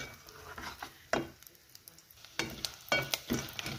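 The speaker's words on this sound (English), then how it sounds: "Let's fry these dry fruits until they are brown." Cashews, almonds and pistachios fry in a pan, a quiet sizzle broken by several sharp stirring scrapes and clatters in uneven bursts, heard close with no voices.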